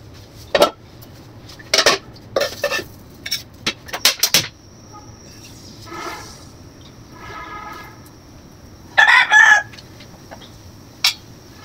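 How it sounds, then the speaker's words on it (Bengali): A rooster crowing in the early morning around five, heard at a distance in long drawn calls between loud nearby clatters of pots and utensils in a kitchen. "মোরগও ডাকতেছে।"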